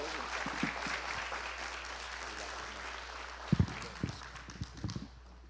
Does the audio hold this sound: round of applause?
yes